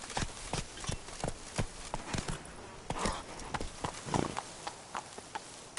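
Hooves of the horse Roach clip-clop in a steady trotting rhythm across a fantasy game landscape in The Witcher 3, sharp repeated strikes close by with little else around them.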